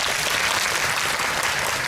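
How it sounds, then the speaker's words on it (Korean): Steady, dense applause from a cinema audience at a film talk event for two actors, loud and continuous throughout the short stretch with no talk over it. "일단 두 분에게 박수 좀 부탁드리고요"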